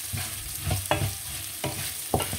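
Food sizzles in a pan while it is fried with salt, soft steady frying broken by several sharp stirring scrapes and clacks at irregular intervals, fairly quiet and close with no talk.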